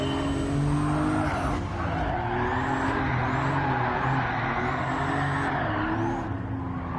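A car drifts in Gran Turismo at Grand Valley, its tyres squealing in long, loud skids over a steady engine drone, with pitch sliding up and down as the slide continues.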